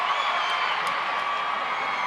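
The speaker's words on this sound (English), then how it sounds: "You hear the reaction of the crowd on the big screen" A large boxing arena crowd at the 2006 Mayweather versus Judah fight rumbles and cheers as a steady, distant roar with a faint announcer-like tone underneath.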